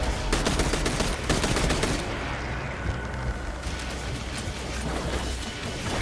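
Automatic weapon fire in Destiny 2: Forsaken during a heroic story mission, with loud, dense rapid-fire bursts and booms filling the whole stretch without a break, and no talking.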